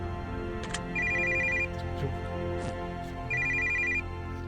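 A phone rings in two bursts of rapid electronic trills inside a video game bedroom, with a steady low hum underneath and someone talking between the rings.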